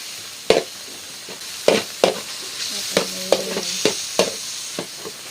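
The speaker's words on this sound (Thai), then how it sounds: "ขั่วไปจนหมูสุกนะ" Pork sizzling as it is stir-fried in a pan, with a steady hiss of frying beneath repeated scraping and clacking strokes of a spatula, close and fairly loud.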